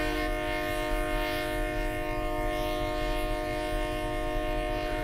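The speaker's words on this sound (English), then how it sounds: "The horn on the train isn't too bad." A steady, sustained train horn from a Peninsula Corridor locomotive in Train Simulator 2018, a loud chord-like blare holding without a break over a low rumble of the moving train.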